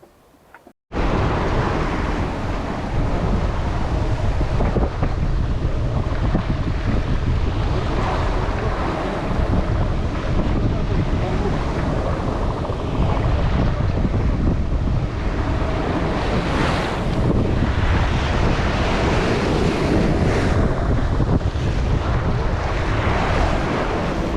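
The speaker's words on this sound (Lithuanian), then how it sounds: "štilis ir bangos, kurios lūžta praktiškai stačios ir laivas šokinėja per jas" Waves break against a sailing boat in a calm after strong wind, a continuous loud rush of surf and splashing water with heavy wind buffeting the microphone throughout.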